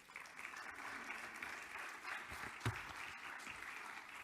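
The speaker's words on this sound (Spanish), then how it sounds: "Un aplauso para él, por favor." An audience at a talk on the future of food and science applauds a speaker taking the stage. The applause is dense and steady, somewhat distant, and fills the whole stretch without a break.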